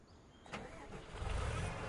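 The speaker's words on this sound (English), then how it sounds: "you ready to hear what this bad boy sounds like?" A tractor engine in Farming Simulator 25 cranks and catches, then settles into a steady mid-pitched idle over under two seconds, fairly quiet and alone.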